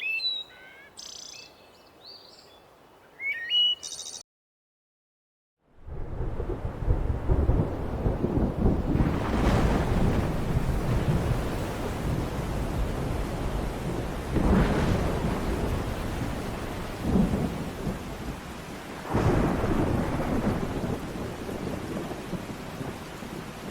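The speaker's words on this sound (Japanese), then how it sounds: "季節の最初の雨粒が、" Heavy first-season rain pours steadily onto dry, cracked savanna ground, punctuated by several loud rolling thunderclaps, with brief bird calls audible at the start before a short silence.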